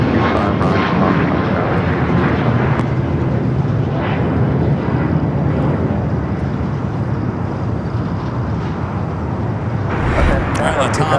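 A converted Boeing 767-300 cargo plane, once a 19-year-old passenger jet, arrives from Panama City at LAX with a loud, steady engine roar that fills the whole stretch. A radio voice talks over the noise.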